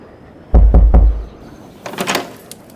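Three quick, solid knocks on a wooden door, close and loud, followed a moment later by a softer, scraping rattle as the door opens.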